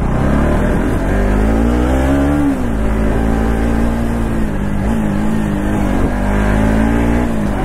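A Jawa motorcycle engine revs loudly and steadily up close, its throaty drone rising and dipping slightly while holding a continuous roar throughout.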